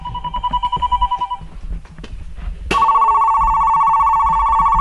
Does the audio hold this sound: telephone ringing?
yes